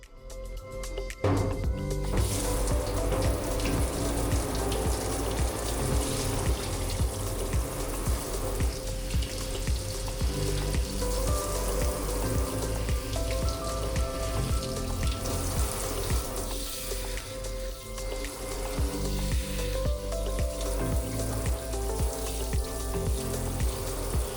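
Running water pours steadily while a Biewer Yorkie is bathed during grooming, a continuous splashing hiss with dense, close sound throughout and no talking.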